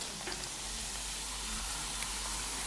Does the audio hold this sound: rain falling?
no